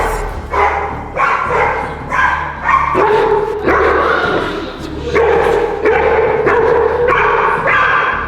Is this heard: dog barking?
yes